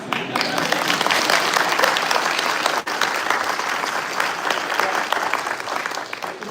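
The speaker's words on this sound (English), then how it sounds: "The only thing I haven't rehearsed is your applause." Sustained applause from a graduation ceremony audience fills a large hall, dense and steady clapping throughout with a brief dip near the middle, loud and close.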